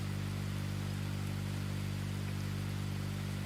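Rain falls at night in the rally racing game DiRT Rally 2.0, a steady hiss of noise over a constant low engine hum, unchanging and continuous throughout with no voices.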